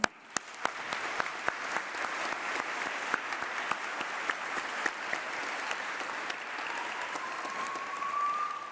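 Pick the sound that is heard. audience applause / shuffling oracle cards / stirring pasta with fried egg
audience applause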